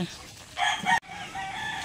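Native Tagalog chickens recently released from a brooder onto open ground, a few clucks and calls rising over a low background, with a faint voice nearby.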